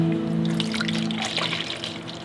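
Liquid pours through a clean funnel into a Mazda Miata, a close steady trickling stream gurgling and splashing for a couple of seconds with no talk.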